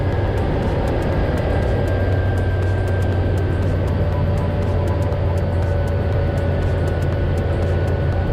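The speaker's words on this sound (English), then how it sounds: "Pretty soon we're on final approach to Rudy's field" Light bush plane on final approach to a rural airstrip, heard from inside the cabin as a loud, constant engine and propeller drone with a steady whine and no break.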